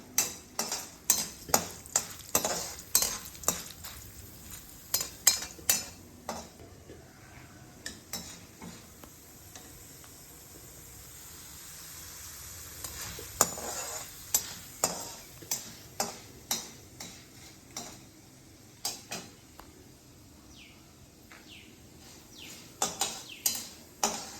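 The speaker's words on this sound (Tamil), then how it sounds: "உளுத்தம் பருப்பை செவக்க வறுத்துக்கணும்" Urad dal dry-roasting in a pan for a pirandai thuvaiyal, with repeated sharp scraping and clinking strokes of a spatula against the metal pan over a faint low hiss, no voices.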